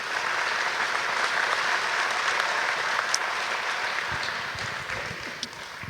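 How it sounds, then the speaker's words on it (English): An audience at a college summer orientation session gives a round of applause, steady clapping that fills the room at moderate volume for several seconds and thins toward the end. "so we can give her a round of applause"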